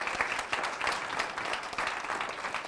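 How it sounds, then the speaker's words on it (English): An audience at a wellness workshop event gives a steady round of applause, dense overlapping claps sustained throughout at moderate loudness with no talking. "So I just want to give her a round of applause."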